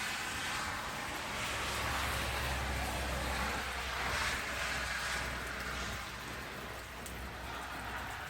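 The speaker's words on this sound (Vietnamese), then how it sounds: "Bên ngoài thì trời mưa rất là to." Heavy rain pours outside during a walk: a dense, continuous hiss of drops beating on surfaces with a low rumble underneath, steady and loud the whole time, with no voices.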